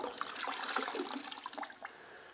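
Warm water pours and trickles over a hot car body panel being prepared for lead work, a steady splashing wash that fades into scattered drips, close and fairly quiet with no talk.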